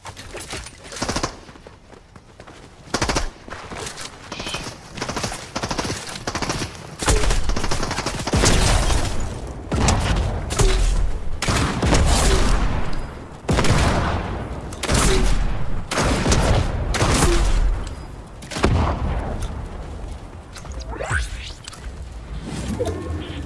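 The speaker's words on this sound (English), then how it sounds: "Somebody else is shooting." Repeated gunshots and bursts of fire in a video game, loud and close, with dense volleys and short gaps between them.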